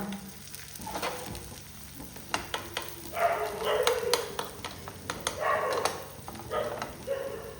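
Two eggs fry in hot oil while being stirred with a utensil, with a soft sizzle underneath and clusters of scraping, clinking strokes against the pan, close and moderately quiet, without talk.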